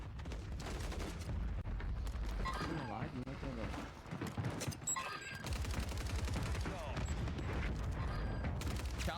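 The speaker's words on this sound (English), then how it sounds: "The grenades are landing on top of Aydan" Grenade blasts and gunfire from a Call of Duty: Warzone match, with dense, continuous bursts and booms layered under game music and commentary voices throughout.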